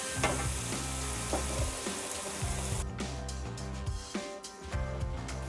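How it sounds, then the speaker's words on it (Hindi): Boiled chickpeas tipped into a sizzling gravy masala, giving a steady loud frying hiss with stirring clatter and a sharper burst of sizzle as they hit the pan, no talk. "अब हम इसके अंदर ऐड करेंगे हमारे चने जो हमने बॉयल किए थे वो।"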